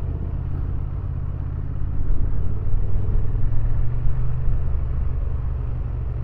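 A Honda Transalp 750 motorcycle pulls away in first gear, its engine a close, steady low rumble with a gentle rise in loudness midway.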